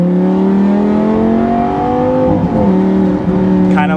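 A 2014 Lamborghini Gallardo LP550-2 pulls away in first gear, its engine note loud and close. A steady rising drone climbs in pitch, then the tone shifts as the clutch engages.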